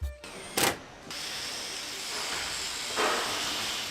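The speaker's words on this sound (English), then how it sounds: "the sound of this Canadian production line" Roshel armoured vehicle production line machinery in a Canadian factory gives off steady hissing, with sharp bursts of pneumatic air near the start and again about three seconds in.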